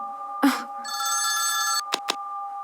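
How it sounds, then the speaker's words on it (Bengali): A telephone rings at night with a shrill electronic bell tone that holds for about a second, preceded by a brief rustle and followed by two short sharp clicks, close and fairly loud. "আরে, এত রাতে কে ফোন করছে?"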